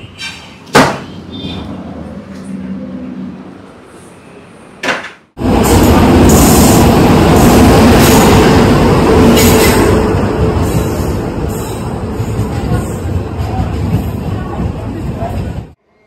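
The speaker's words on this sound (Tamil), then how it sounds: "இப்போ எங்கே இருக்கேன்னு பார்த்தீங்கன்னா ரயில்வே ஸ்டேஷனில் தாங்க இருக்கேன்" At a railway station, a train arrives with a loud, close rumble and squealing wheels that begin partway through and continue steadily to the end. Voices and a few sharp knocks come before it.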